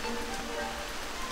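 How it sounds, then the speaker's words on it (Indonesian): Rain falls steadily on a mountain path during a walk to collect cooking ingredients, a soft continuous patter heard alone. "Hujan soalnya berbahaya ah"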